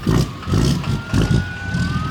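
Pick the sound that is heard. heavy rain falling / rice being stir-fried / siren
siren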